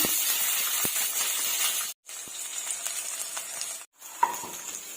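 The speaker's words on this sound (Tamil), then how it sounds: "இப்ப இந்த கடுகு பொரிஞ்சதும் வெங்காயத்தை வந்து இதுல சேர்த்துடலாம்." Onion drops into hot oil with popped mustard seeds and hisses in a steady, close sizzle. The sound is broken by two brief silent gaps and ends on a sharp clink of a utensil.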